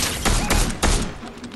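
A short burst of video game gunfire: two or three loud, close shots in quick succession, each trailing off into a brief echo, with no voices.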